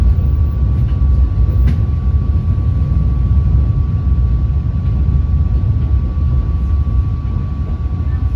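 Inside a Pasundan New Gen passenger train travelling from Surabaya, a loud continuous low rumble of wheels on rails with a steady high hum, unbroken and even throughout.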